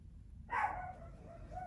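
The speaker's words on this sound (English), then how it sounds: "Do y'all hear my little doggy barking in the background?" A small dog barks once nearby indoors, a brief sharp yap that trails off into quiet room tone.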